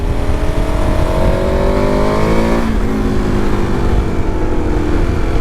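A 2022 KTM 1290 Super Adventure S motorcycle engine revs hard and loud, its pitch climbing steadily, then drops back as the gear changes and it pulls on, with continuous wind and road roar underneath and no talking.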